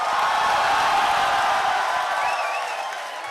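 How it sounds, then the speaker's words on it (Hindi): Audience at a mushaira applauds in a dense, continuous wash of clapping and crowd noise, steady at first and gradually fading toward the end. "आप सबकी भरपूर तालियों में और तालियों में ही तशरीफ लाते हैं जनाब तहजीब हाफिज"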